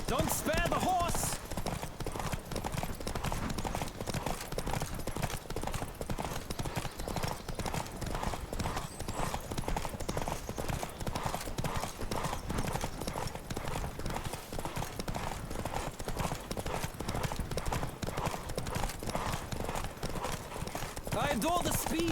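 Horse hooves clip-clop at a fast galloping rhythm throughout a horse race in the game The Witcher 3, steady and loud with voices talking over the pounding.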